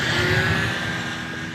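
Electric motor of an MJX 14303 Citroën RC rally car at full throttle, a steady high whine with a constant tone, loud and close, holding evenly for the whole short stretch.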